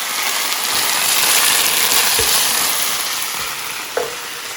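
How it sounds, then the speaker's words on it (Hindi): Chicken pieces fry in a pan as they are browned for Chicken Changezi, giving a loud, close, steady sizzling hiss with a couple of sharp knocks of a spoon against the pan. "इसको अब आप भूनते जाएं, इसको फ्राई करना है आपने।"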